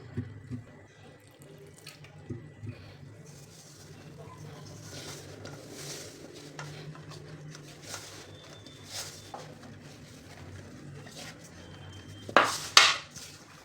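A small amount of water trickles quietly into a bowl of salted flour for kneading a stiff dough, against a low background hum, with a brief clatter near the end.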